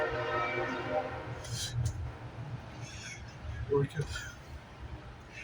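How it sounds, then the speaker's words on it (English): A train's horn sounds in the distance as the train rumbles past, steady low clatter under quiet talk. "We'll wait for the train."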